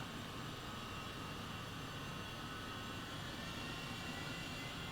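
Helicopter engine spinning up in Flight Simulator 2020 over night-time London, a dense continuous turbine roar and whine at a steady, fairly loud level, with no speech.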